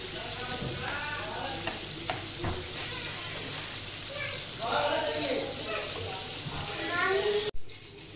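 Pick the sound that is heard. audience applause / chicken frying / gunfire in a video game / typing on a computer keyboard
chicken frying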